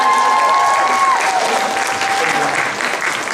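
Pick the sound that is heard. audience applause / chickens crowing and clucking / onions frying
audience applause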